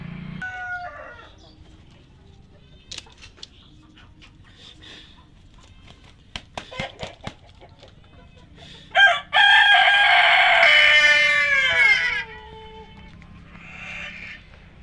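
Tiger-breed chickens in a hen house make scattered soft sounds and knocks, then a loud, drawn-out crow rings out nearby for a few seconds.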